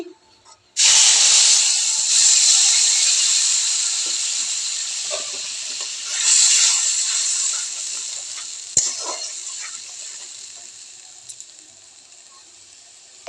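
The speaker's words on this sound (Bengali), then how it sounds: "এই মশলাটা আমি দিয়ে দিচ্ছি" Prepared spice paste drops into hot oil in a home kitchen with a sudden loud hiss, then sizzles steadily and gradually fades, with a brief stir and renewed bursts of frying along the way.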